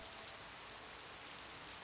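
Rain falls in a graveyard scene of the Piofiore visual novel game, a soft, even, continuous hiss of drops with no other sounds, steady from start to finish.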